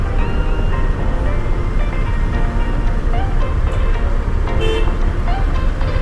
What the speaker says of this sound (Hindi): फाइनली ट्रैफिक खुल चुका है